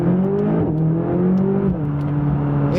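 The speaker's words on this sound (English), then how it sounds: "I'll do a little acceleration here." A McLaren 570S sports car accelerates with a steady, loud engine drone whose pitch holds and shifts in stepped harmonics through gear changes, heard from nearby with no talking.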